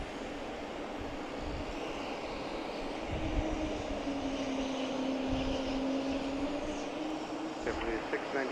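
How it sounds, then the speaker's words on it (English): A Spirit Airbus A320 jet arriving from Atlanta at Boston's Logan Airport, a steady, distant roar with a slowly shifting engine whine, heard alone throughout. "next in it's that Spirit coming in from Atlanta, an A320"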